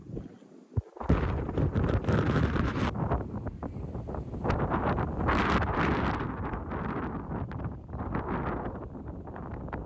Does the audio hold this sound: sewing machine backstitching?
no